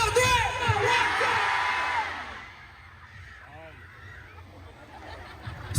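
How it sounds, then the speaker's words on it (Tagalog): Concert crowd shouting loudly together on cue, a dense roaring wall of voices for about two seconds that fades to a quieter murmur with brief melodic vocal sounds. "pwede ba kayong sumigaw yung saan, yung napakalakas?"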